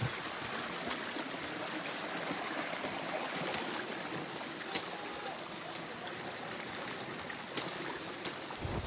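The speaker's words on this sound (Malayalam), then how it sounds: "മഴ നല്ല ശക്തമായിട്ട് കൂടിയതുകൊണ്ട് മേളിൽ നിന്ന് വെള്ളം ഇങ്ങനെ ഒലിച്ച് വരുന്നുണ്ട്. ചെളിവെള്ളമാണ്." Muddy rainwater streams down a forest trail during heavy rain on the Narasimha Parvatha trek near Agumbe, a steady, fairly faint rushing trickle that stays even throughout with no voices.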